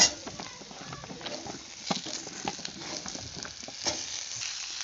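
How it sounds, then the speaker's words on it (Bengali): Sliced flat beans tipped into a pan of frying garlic and onion, producing a close, crackling sizzle with scattered pops and stirring scrapes throughout. "এবার ওর মধ্যে কেটে রাখা সিমগুলোকেও দিয়ে দেব"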